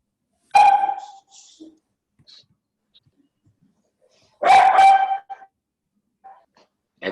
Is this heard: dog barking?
yes